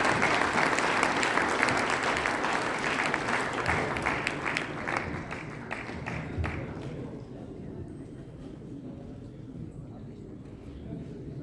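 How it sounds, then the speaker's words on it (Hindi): Applause from a mushaira audience greeting a poet at a Sir Syed Day gathering, dense and sustained for several seconds before gradually thinning and fading. "आपकी भरपूर तालियों में तशरीफ़ लाते हैं"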